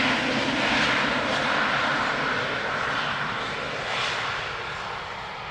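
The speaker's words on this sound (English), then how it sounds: "A321Neo landing on center" An Airbus A321neo comes in to land at Amsterdam Schiphol Airport, its engines a broad, steady roar that holds loud and near before slowly easing off, with no voices over it.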